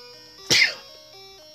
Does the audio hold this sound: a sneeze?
yes